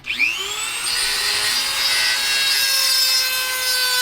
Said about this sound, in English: I got a special hard Dremel bit that I'm trying.